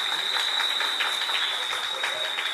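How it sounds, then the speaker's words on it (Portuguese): A church congregation claps during a Sunday family service, producing a steady wash of applause with voices mixed in and a thin constant high tone underneath. "Vamos aplaudir o Senhor."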